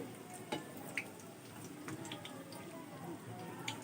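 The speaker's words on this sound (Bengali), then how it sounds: "আর এভাবেই খুব আস্তে আস্তে আমি সবগুলো ডোনাট ভেজে নিব" Chicken donuts fry in hot oil, giving a faint, steady sizzle with a few sharp crackles and pops scattered through it.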